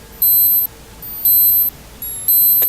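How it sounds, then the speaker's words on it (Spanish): Unexplained high-pitched electronic beeping comes in three evenly spaced bursts, each about half a second long, clear and fairly loud over a faint background hiss, with no voices. "Acabamos de grabar una especie de pitido"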